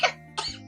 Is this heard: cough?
yes